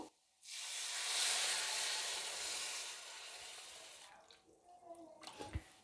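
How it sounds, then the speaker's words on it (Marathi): Water pours into a hot pan of fried onions with a loud, steady hissing sizzle that fades, followed by faint clatter and scraping. "आपण आता यात पाणी ॲड करू"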